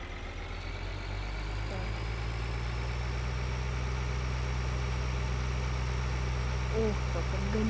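A tractor engine in the Farming Simulator 2013 game drones steadily, a loud low idling rumble with a constant tone that runs throughout, with faint speech over it.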